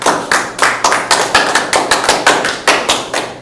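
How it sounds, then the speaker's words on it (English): A classroom of children claps in a loose, rhythmic group, sharp overlapping claps in bursts close to the listener with no talking. "Everybody clap."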